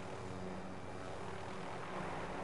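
A helicopter in a video game battle royale match gives a dense, steady rotor and engine roar, unbroken and fairly loud throughout the short stretch.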